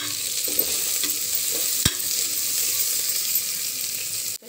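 Chopped tomatoes tossed into a pan of cooking dal sizzle steadily while a spoon stirs and scrapes, a continuous close frying hiss with a few clicks.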